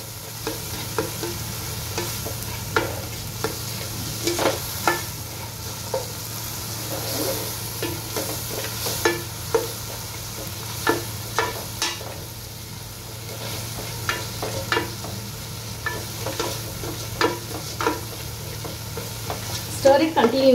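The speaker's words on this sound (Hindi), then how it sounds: "Saute this well." Tomato gravy for Mumbai street pav bhaji is sautéed in a pan, with a steady close sizzle and repeated scraping clinks of a spoon stirring throughout.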